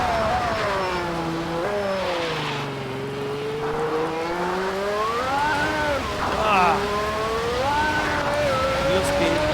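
A race car in the Automobilista 2 sim spinning its wheels at full throttle, a loud continuous engine whine rising and falling in pitch as revs surge, close and steady throughout.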